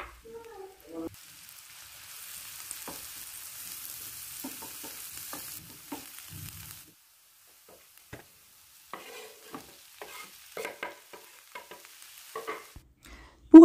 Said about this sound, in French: Ensuite, je vais les faire revenir dans la même poêle pendant quelques minutes